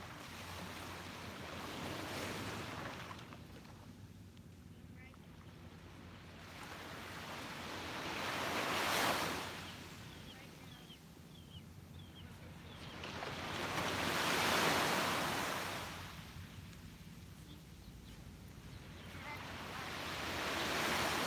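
Ocean waves roll onto a beach at sunrise, three slow swells building and fading about every six seconds under a steady wash of surf and light wind.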